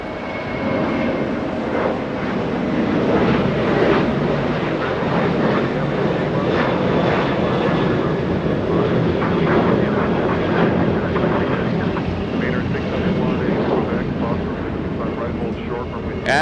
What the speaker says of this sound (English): We have China Airlines cargo 5168 flying in from Anchorage, a 5-hour flight for that one